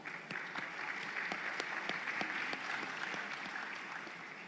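Audience applause at a fireside chat on Jamaica's development, moderately quiet and steady, with individual claps standing out sharply through the continuous patter.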